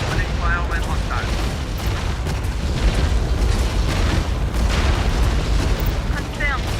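Battlefield gunfire and explosions in the war strategy game Tom Clancy's EndWar, a dense continuous rumble of booms and shots under radio chatter.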